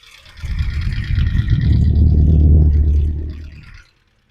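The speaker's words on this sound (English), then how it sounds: "One more listen to the sound of the engine at idle." A 1971 Datsun 1600SSS four-cylinder engine idles with a steady low rumble close by, swelling slightly midway before cutting off abruptly near the end.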